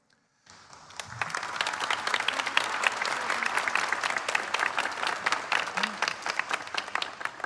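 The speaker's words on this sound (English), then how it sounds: "So when I pause, you clap." Audience at a university presidential investiture ceremony bursts into applause after a brief silence, a broad, sustained roar of clapping that builds and holds steadily, heard from within a large hall.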